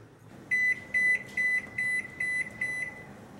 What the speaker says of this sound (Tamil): இப்போ அவனில் வச்சுக்கிறேன்